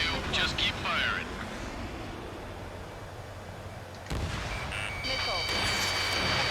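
Aircraft guns firing in Ace Combat 7 during a dogfight against UAVs: a steady rumbling barrage runs under engine noise, with sharper bursts near the start and toward the end, loud and without clear talking.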